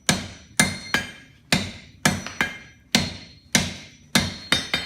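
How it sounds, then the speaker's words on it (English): A blacksmith hammers hot steel on an anvil, upsetting the end of a bar into a ball: about a dozen sharp, loud, ringing blows, close up, in a steady working rhythm with occasional quick double strikes and brief ringing decays. "Notice how I've stepped through the anvil and my elbow's tucked in and my blows are nice and solid."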